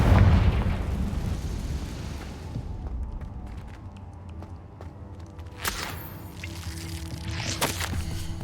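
A fiery explosive spell cast in the Hogwarts Legacy game: a heavy booming burst tails off into rumble, then sharp crackling bursts flare near the end amid game music.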